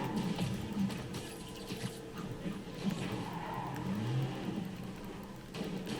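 Car chase in Spider-Man Remastered: a steady roar of engines with skidding tires and surging revs, continuous and fairly loud throughout.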